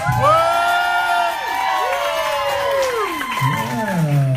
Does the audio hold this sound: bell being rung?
no